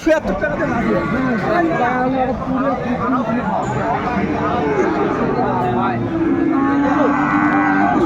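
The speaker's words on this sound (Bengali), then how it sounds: "সুন্দর একটি ষাঁড় গরু দেখাশোনা চলছে" A Sahiwal bull lowing at a busy cattle market, several loud drawn-out moos rising over constant crowd chatter and voices talking nearby.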